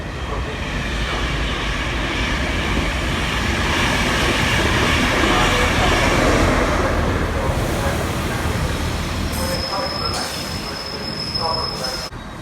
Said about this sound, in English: Well, even though the train's departing,